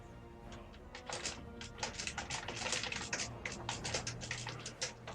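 Computer keyboard typing runs as a rapid, irregular patter of clicks at moderate loudness, steady throughout with no voices over it.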